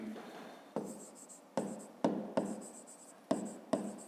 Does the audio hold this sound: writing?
yes